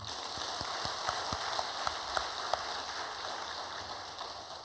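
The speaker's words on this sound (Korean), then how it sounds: "하나님께 영광의 박수를 올려드리십시다" Congregation applause at a church youth devotional worship service, a steady dense patter of many hands clapping with a few sharper individual claps standing out, moderately loud and continuous.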